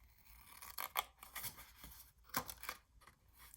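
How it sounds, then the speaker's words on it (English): Scissors snip through a small paper box template in short, separate cuts with quiet rustling of paper between them, close and fairly soft, with no voices. "We're just going to cut this one out right here."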